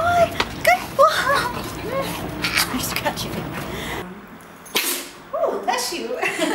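A single quick sneeze at a family dog rescue during dog training, bursting out briefly amid ongoing speech and lively background activity.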